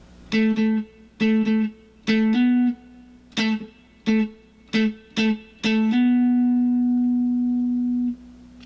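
Electric guitar picks out a single-note pattern from a song, crisp plucked notes in a syncopated run that ends on one long sustained tone, close and alone.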